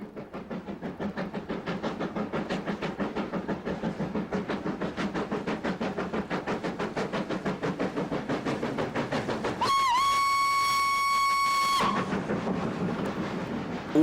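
A steam train running on the Weardale Railway, its rhythmic chuffing beat steady and close throughout, with a loud multi-tone whistle sounding for about two seconds near the end.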